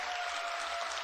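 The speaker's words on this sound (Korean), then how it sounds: "여러분 뜨거운 박수 한번 다시 부탁드립니다" Audience applause at a Seongsu-dong concert in Korea: a steady, dense wash of many hands clapping together, sustained and even from start to finish with no voices.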